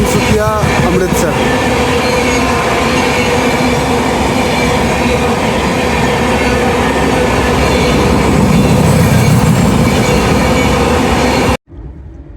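Sadbhavana Express train 14007 rolling along the main line on a green signal, a steady loud rumble of wheels and carriages with a few clanks near the start, cutting off abruptly near the end.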